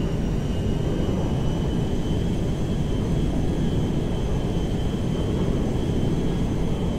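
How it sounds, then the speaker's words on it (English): Steady broadband roar of the Merryweather cargo jet landing at McKenzie Field in GTA 5, a constant loud engine rumble with a faint high whine holding level throughout, no voices. "On the Meriwether jet. We are now landing in Mackenzie Field."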